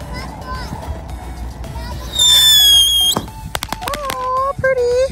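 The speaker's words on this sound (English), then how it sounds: "Remember to always pop fireworks with an adult." Backyard New Year's fireworks, with a whistling rocket followed by a rapid series of sharp pops and crackles nearby, mixed with excited children's and adults' voices.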